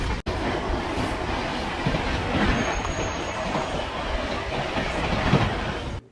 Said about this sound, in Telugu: ఇప్పుడే మన ట్రైన్ ఒంగోలు దాటుకుని వెళ్తూ ఉండగా